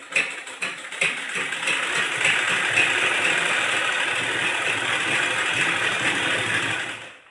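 A household sewing machine runs steadily for about seven seconds, a loud, close mechanical whirr with fast ticking needle action that starts abruptly and winds down at the end, with no voices.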